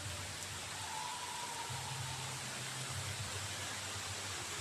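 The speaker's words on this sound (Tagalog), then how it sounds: "Ulan na naman." Steady rain falls on a farm with cattle, a dense continuous hiss that stays loud and even throughout, with a faint low hum underneath and no voices.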